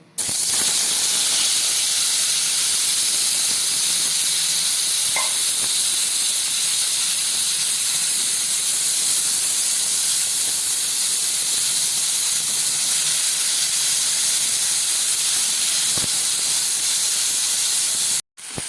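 Lightly boiled hog plums dropped into hot oil, a loud, continuous close hiss and sizzle that holds steady for the whole stretch and cuts off abruptly at the end.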